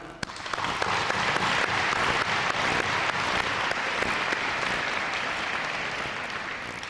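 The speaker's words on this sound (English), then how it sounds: "I'd like to give them a round of applause now." An audience at a 2003 high school graduation ceremony breaks into a long round of applause, a thick wash of clapping that swells quickly, holds steady and loud, then slowly eases toward the end.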